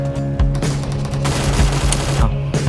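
Rapid automatic gunfire in the mobile battle game PUBG Mobile, loud and continuous bursts with booming impacts over a constant background, no talking.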